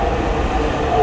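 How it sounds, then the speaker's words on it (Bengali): A Dhaka metro rail train pulls into the station, a steady low rumble with a thin tonal whine rising slightly toward the end. "এই যে আমাদের মেট্রো চলে আসছে"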